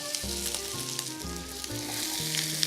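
Onions sautéing in butter in a pan, a steady close sizzle with soft bubbling and a few light stirring scrapes, with no talking.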